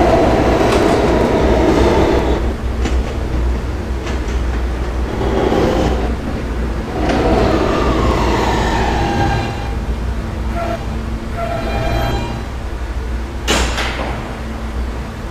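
A Kawasaki R160 subway train on the E line rumbles loudly with rhythmic clickety-clack from the wheels, and its sliding doors thud and hiss near the end.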